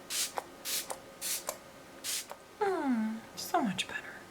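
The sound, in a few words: Fix Plus setting spray being sprayed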